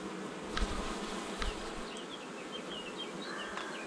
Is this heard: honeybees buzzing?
yes